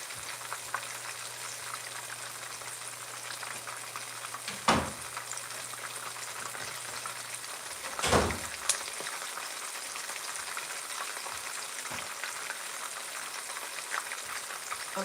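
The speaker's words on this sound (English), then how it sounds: "But I want to finish frying my fish first." Steady crackling sizzle of red snapper frying in hot oil, continuous and close, with a couple of brief louder bursts of spattering.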